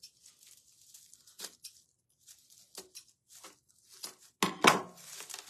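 Raffia being cut, heard as scattered faint snips and dry rustles close by, building to a louder crinkly tearing burst near the end, with no talk.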